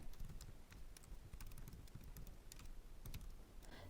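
Someone types on a computer keyboard while filling in an online account sign-up form, with quick, irregular key clicks that sound faint and close.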